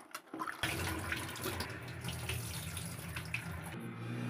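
Tap water runs steadily into a vessel while rice is washed for a second time, a continuous close splashing flow that starts suddenly after a brief quieter moment and cuts off near the end.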